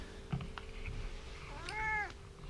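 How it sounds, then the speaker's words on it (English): A pet cat in a home woodworking setting lets out one clear, drawn-out meow, close and moderately loud, after a soft bump, over a low steady hum. "I'll ask the cat."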